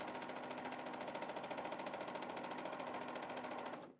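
Brother Innovis PQ1600S sewing machine running steadily through four layers of soft leather, a loud, even rapid needle chatter lasting about four seconds before stopping abruptly.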